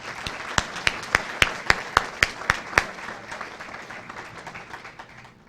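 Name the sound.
audience applause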